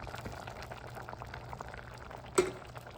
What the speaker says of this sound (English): I'm going to add some tomatoes into it.